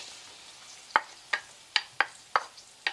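Diced potato drops into melted butter and olive oil for a Spanish tortilla, giving several quick, crisp sizzling bursts at a near-regular pace, each fading fast over a quiet background hiss.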